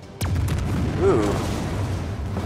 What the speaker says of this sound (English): Glad she had that bombing run